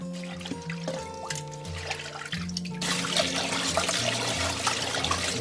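Fish being rinsed in water, with steady splashing and pouring that grows louder and fuller partway through, close by, no talking, faint background music.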